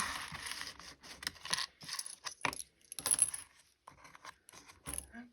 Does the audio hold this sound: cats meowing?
no